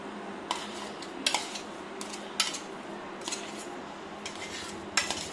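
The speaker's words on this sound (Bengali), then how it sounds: "ভালো করে আরও একটু মাখিয়ে নেব।" A spoon mixes shrimp paste for a Bengali chingri maach bharta, striking the bowl in a series of bright clinks roughly every second over soft stirring, close up with no talk.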